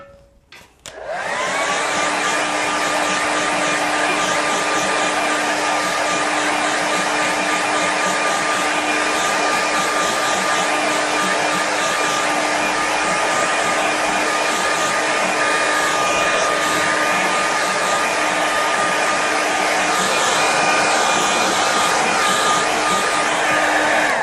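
A hair dryer blows on a watercolour painting of a riverside scene, switching on with a click and then holding a steady, loud whirring hum with a high whine for over twenty seconds, with no talking.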